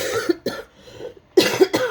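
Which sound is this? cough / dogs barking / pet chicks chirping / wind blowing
cough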